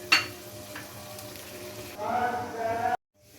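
A pan of mixed vegetable curry with potatoes and added water simmers on a low flame, giving a soft, close sizzle with a sharp clink at the start and a brief louder bubbling stir before it cuts to silence.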